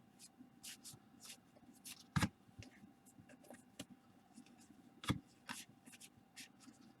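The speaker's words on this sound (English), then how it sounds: "You can hear cards falling in the background." Baseball cards from a factory-sealed 1987 Fleer set spill and flutter in soft, papery bursts in the background, with two sharper slaps standing out amid quiet rustling.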